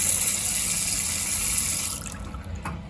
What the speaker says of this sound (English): hot water switched on, tap's not leaking